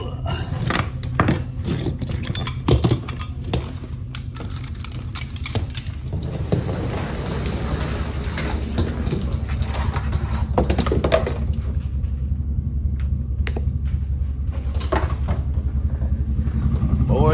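An LS-swapped Ford Mustang Fox body idles outside a race trailer, a steady low engine rumble running throughout, with clanks and rattles of straps and gear being handled nearby.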